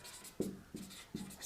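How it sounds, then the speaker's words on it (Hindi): Writing on a board, heard as a few short scratchy strokes with brief gaps between them, close and faint, with no talk. "तो चलिए मैं लिख रहा हूँ"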